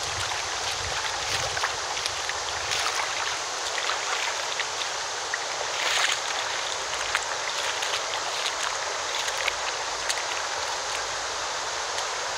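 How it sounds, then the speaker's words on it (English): A small waterfall feeds a clear stream, giving a steady broadband rush of flowing water that holds at moderate loudness for the whole stretch with no voices over it. "There's a waterfall."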